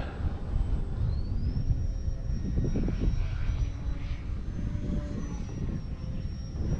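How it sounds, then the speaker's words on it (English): A small engine on an E-flite Valiant 1.3m RC model airplane whines overhead with a steady buzzing drone that rises and falls in pitch as the plane banks and swoops, with low wind rumble throughout. "the Valiant, as you can see, can be very aerobatic"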